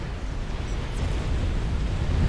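A destroyed unit explodes in Forged Alliance Forever, a dense, rumbling blast that rolls on as a continuous low roar for a couple of seconds, with no voice over it.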